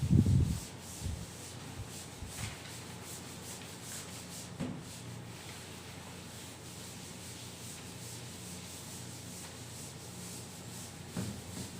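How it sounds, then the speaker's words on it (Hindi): An eraser rubs writing off a classroom board in a continuous, fairly close scrubbing swish lasting several seconds, with a few soft knocks at the start and near the end and no talking. "चलिए इसको रब कर देते हैं।"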